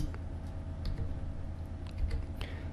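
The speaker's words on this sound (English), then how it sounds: "so let me type it completely." Quick typing on a computer keyboard, entering a monitor model number, with light irregular key clicks close by and no talking.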